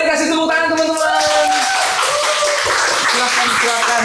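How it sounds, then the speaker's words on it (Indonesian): Audience clapping for two guests arriving at a technology talk show, steady and fairly close, mixed with voices and a musical tone that fades. "Boleh dikasih tepuk tangan teman-teman."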